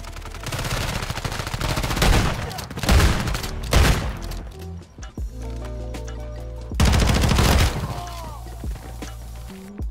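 Rapid automatic fire from a STATIC-HV SMG in a video game, loud sustained bursts with short gaps between volleys, close and dominant with no talk.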